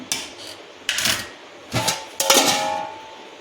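A metal lid is set onto a cooking pot of dal, giving four sharp clanks and rattles spaced apart, close and fairly loud with a brief ringing tail.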